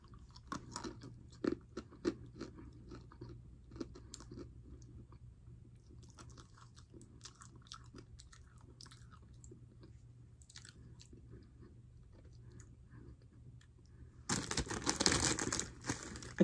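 Crunchy candy being chewed close up, soft irregular crunches and sticky mouth sounds at a quiet level, ending in a louder burst of crinkling wrapper noise.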